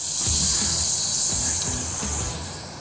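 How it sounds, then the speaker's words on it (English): Shrimp sizzle loudly in a hot skillet over a flame while it is deglazed, a bright continuous hiss with a few soft thumps underneath. "I'm gonna be deglazing the skillet. You can hear the sizzle."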